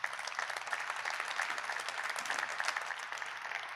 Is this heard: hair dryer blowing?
no